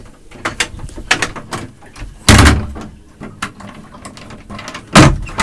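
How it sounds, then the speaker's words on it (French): Cabin door of a Dufour 29 sailboat fitted into place, giving a series of wooden knocks and clunks with two louder thuds as it seats, close by and with no talking. "Et la porte du carré qui vient se mettre dessus également."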